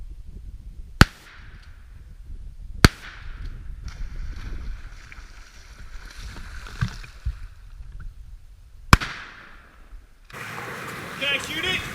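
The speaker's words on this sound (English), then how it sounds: "he is shooting a lot of shells at that bad boy." Shotgun blasts ring out during a duck hunt on the water, three sharp, loud, isolated cracks spaced seconds apart, with quieter rustling, movement and talk between them.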